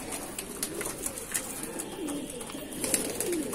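Madrasi pigeons cooing close by, soft low repeated coos with scattered sharper clicks and rustles in a busy loft, no talking.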